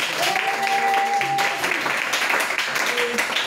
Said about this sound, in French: Acclame très fort le Seigneur Jésus-Christ.